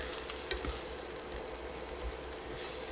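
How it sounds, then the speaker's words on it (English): Onions and garlic sauté in a pan for a potato curry, giving a soft continuous sizzle with a few light utensil taps and stirs near the start, close and steady, with no one speaking. "let's go ahead and saute up these onions and the garlic until lightly browned"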